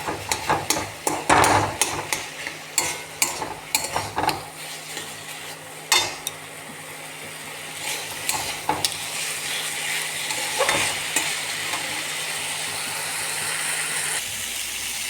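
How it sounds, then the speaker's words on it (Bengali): A spatula knocks and scrapes in a pan while boiled pumpkin is mashed and fried, with sharp irregular taps over a low sizzling hiss that settles into steadier frying toward the end. "আমি ভালো করে খুন্তির সাহায্যে ভেঙে দেবো"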